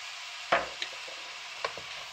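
Shrimp filling simmering in soy sauce in a pan hisses with a soft, even sizzle, with a few light utensil taps and clicks over the quiet bubbling.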